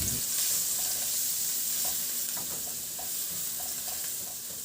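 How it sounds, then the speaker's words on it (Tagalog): Garlic sautéing in a small amount of oil in a dry pan: a steady, close hiss of frying with light scraping and stirring noises over it, no voices. "Sa disim na kawali, binawasan ko lang din yung mantika at igisa ko na yung bawang"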